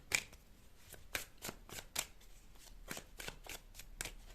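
Tarot cards shuffled by hand during a reading, a quick run of crisp riffling flicks at an even pace, close but soft, with no talking.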